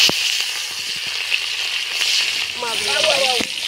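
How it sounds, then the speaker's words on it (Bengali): Rui fish frying in hot oil at an outdoor New Year's Eve picnic cookout gives a steady, close, hissing sizzle with scattered crackles, and a voice is briefly heard near the end. "মাছগুলো এবার ভাজা নেব।"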